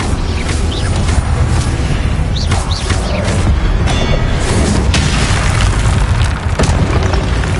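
Incendio fire spell cast again and again in Hogwarts Legacy, loud crackling bursts of flame and booming magical impacts layered over continuous game combat noise and music.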